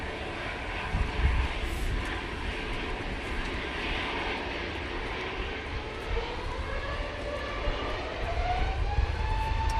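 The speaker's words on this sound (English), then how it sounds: "Jet2, A321 Neo now on the roll." A Jet2 Airbus A321neo rolls for takeoff at Manchester Airport on a windy day, its engines a broad, steady roar at a moderate distance with a slowly climbing whine, wind buffeting throughout.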